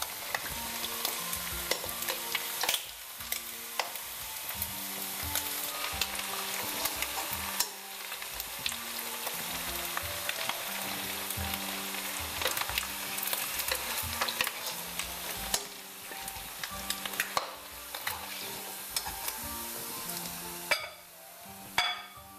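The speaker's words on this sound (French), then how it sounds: "Et là, nous frions dans de l'huile, quand même dans beaucoup de l'huile" Eel fries in a generous amount of hot oil, giving a continuous dense sizzle with intermittent stirring scrapes and faint clinks throughout.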